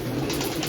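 A short burst of pigeon cooing, low and soft, heard close against a faint background hum.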